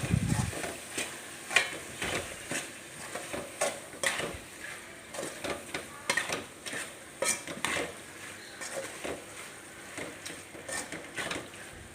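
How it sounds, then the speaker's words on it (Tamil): Prawn thokku ingredients being sautéed in a pan, with repeated rhythmic scraping and clattering of a spatula against metal over a continuous frying sizzle. "அதை ஒரு வதக்கு நல்லா வதக்கிக்கணும்"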